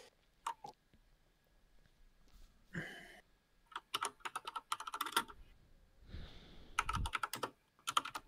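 Bursts of mechanical computer keyboard typing in clattering clusters with pauses between them, fairly close and moderately loud, with no talking.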